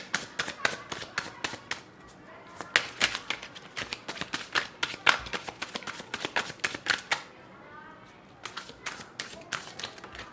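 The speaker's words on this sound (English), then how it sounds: "so I'm gonna shuffle the cards for pile 2" Tarot cards are shuffled by hand in quick bursts of crisp riffling snaps and flutters, close and sharp, with short pauses between rounds.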